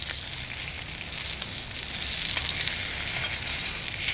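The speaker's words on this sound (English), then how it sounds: "while this is finishing searing" Ribeye caps searing on a hot griddle give a steady, close sizzle that grows slightly louder over a few seconds, with no talk over it.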